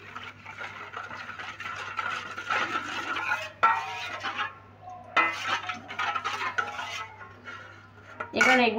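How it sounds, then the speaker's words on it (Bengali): A spoon stirs a thick batter of cornflour, Kashmiri chilli powder and a little salt in a bowl, making close, uneven scraping and clinking strokes in short bursts with brief pauses between them. "এটা দিয়ে আমি একটা ব্যাটার তৈরি করে নেব।"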